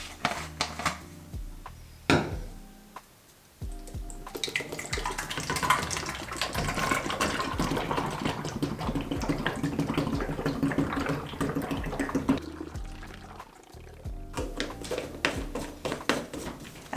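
Liquid laundry detergent pours steadily into a bottle during laundry room organizing, a continuous close gurgling stream lasting several seconds, with brief clunks of the containers before and after and no talking.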